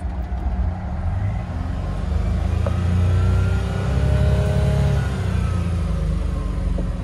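A 4x4 multi-cab driven slowly off-road into farmland in the Philippines, its engine giving a steady low rumble that swells a little midway, with faint rattles, close to the vehicle.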